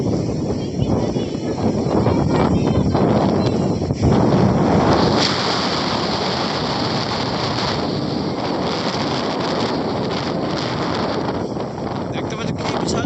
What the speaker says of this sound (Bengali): কি জোরে বাতাস হচ্ছে।